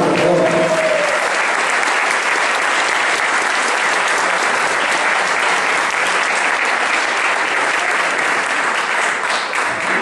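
Loud, sustained applause from a large crowd at a fan meeting in Villarrubio, dense clapping continuing evenly throughout.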